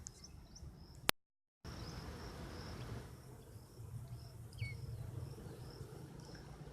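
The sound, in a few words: honeybees buzzing around hives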